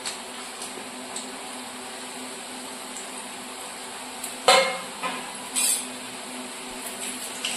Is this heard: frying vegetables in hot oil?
yes